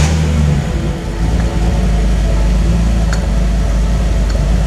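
A BMW E46 engine runs with a loud, steady low rumble that holds throughout, with a slight dip near the start and no voices over it.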